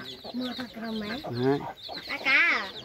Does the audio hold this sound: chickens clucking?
yes